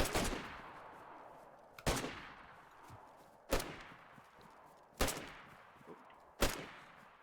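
Five loud, sharp gunshots from a video game shooter ring out at roughly one-and-a-half-second intervals, each with a decaying echo tail, and no voices between them.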